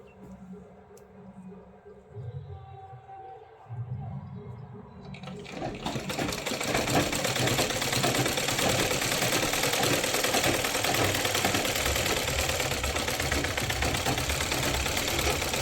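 A sewing machine stitches a Rajputi kalidar lehenga. After a few seconds of quiet handling it starts up into a loud, steady close whir that continues without pause.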